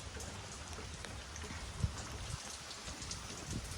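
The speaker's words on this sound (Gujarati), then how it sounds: "તમને આ વરસાદ જો ચાલુ છે છાટા" Steady rain patters nearby and drips from the eaves, a soft continuous hiss with occasional louder drops.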